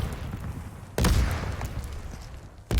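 Grenades exploding in the shooter video game Super People, two sudden loud blasts about two seconds apart, each dying away in a rumbling tail.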